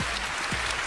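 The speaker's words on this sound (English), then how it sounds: "Give them a round of applause." Brief burst of audience applause at a magic show, a continuous hiss of many hands clapping, fairly close and even throughout.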